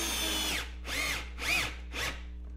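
Power drill driving and countersinking screws into a 2x4 garage shelf bracket, four rising-and-falling whirs of the motor in quick succession, close and loud over a steady low hum.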